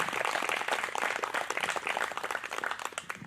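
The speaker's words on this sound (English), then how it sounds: "Let's have another round of applause for all of our contestants." Dense, steady applause from an audience rewards pageant contestants, a continuous wash of many hands clapping at moderate distance with no talking over it.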